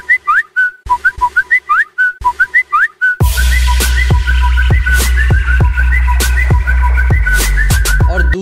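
A whistled-melody ringtone plays from a Redmi Note 4 phone, first as short bright chirping phrases with gaps, then looping with a backing beat and steady rhythm, loud and close.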